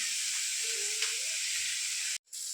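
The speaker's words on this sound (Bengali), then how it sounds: "চলো ভেজে নিই।" Food frying in a pan gives off a steady, even hiss throughout, with a faint tonal whistle partway and a brief cutout near the end.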